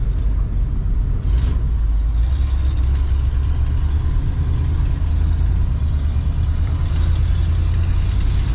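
A 1984 Ford F-150 short box 4x4 project truck runs steadily with a deep, loud engine rumble and a slight exhaust leak, a continuous drone with no talk.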